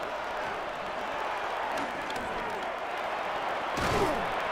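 Stadium crowd noise in a football video game, a continuous broad roar that swells near the end with a thump, alongside faint commentary-like voices.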